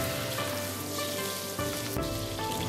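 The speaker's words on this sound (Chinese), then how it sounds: "起锅加油，下入五花肉煸炒，炒香炒出油， 下入葱姜蒜炒香" Pork belly stir-fried in oil with scallion, ginger and garlic sizzles steadily up close, a dense crackling fry with a soft scrape of stirring, no voices.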